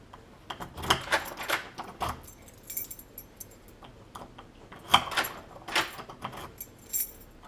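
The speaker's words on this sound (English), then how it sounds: "Operates with the keys. Very nice and smooth." A key works an ASSA high-security deadbolt lock: a series of metallic jangles, clicks and scrapes in irregular bursts over several seconds, close and fairly quiet, with no talking.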